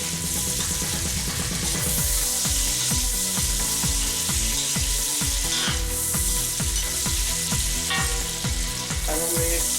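Fried pork is stirred back into softened apples in a hot oiled pan, sizzling loudly and continuously under steady background music.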